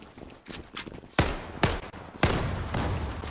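Gunfire from an FN FAL Pro rifle in the online shooter game Zula, with three loud, sharp shots spaced apart over a low game background, preceded by fainter softer clicks and taps.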